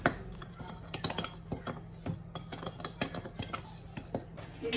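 Dry flour, starch, baking powder, sugar and salt mixed in a bowl, a quick run of clinking, scraping utensil strokes against the bowl at close range, with no one talking.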